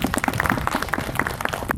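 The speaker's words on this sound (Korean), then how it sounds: "박수로 맞아주십시오." Scattered, moderately loud clapping from a small audience at a memorial hall opening ceremony, individual claps audible and uneven before fading at the end.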